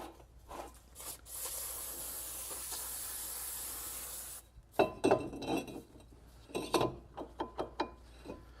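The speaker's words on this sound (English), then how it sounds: "We want to take some brake cleaner and go ahead and wash this off before we put it on the vehicle." Brake cleaner sprayed onto an oily brake part on a vehicle: a long, steady aerosol hiss for several seconds, then a pause and shorter uneven bursts of spraying mixed with clinks of the part being handled.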